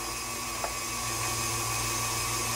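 Steady mechanical whirring and grinding of a KitchenAid stand mixer driving its sausage stuffer attachment as the casing fills, continuous and fairly quiet with faint clicks; no talking.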